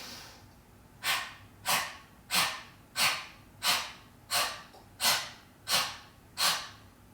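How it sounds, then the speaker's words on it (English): Kapalabhati yoga breathing through the nose in a live-streamed class: nine sharp, forceful nasal exhalations at a steady, roughly even pace, each a short snorting whoosh, close and clear with quiet between them. "Beautiful Kapalabhati breath, energizing us together, skull shining"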